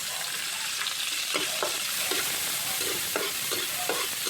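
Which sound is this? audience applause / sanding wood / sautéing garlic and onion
sautéing garlic and onion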